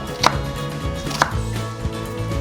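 A knife slices through an onion on a cutting board: two crisp, distinct chops with quieter board taps and cutting sounds between them, close up and without talk.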